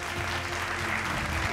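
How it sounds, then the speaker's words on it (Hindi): Loud, dense applause from an audience welcoming a surgical nursing home director at an awards event honouring figures from Uttar Pradesh, filling the whole brief moment without pause. "एक बार जोरदार तालियां।"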